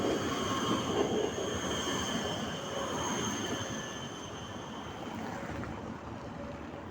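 A metro train rolls past at close range with a sustained rumble, rattling wheels and high metallic squeals, loud at first and then gradually fading.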